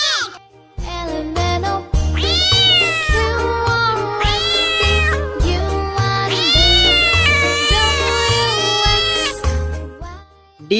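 Repeated loud, close cat meows rise and fall in a children's phonics song, sung over a steady bouncing musical beat with light jingles throughout.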